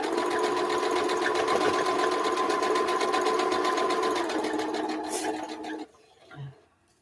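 Sewing machine stitching a Christmas table runner, a steady fast whirring run of stitches that slows and stops near the end, followed by a faint small clatter.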